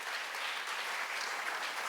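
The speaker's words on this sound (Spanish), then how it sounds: "denle un aplauso a Dios" A church congregation claps in a brief, even burst of applause during a revival service, heard at a moderate distance and fairly soft.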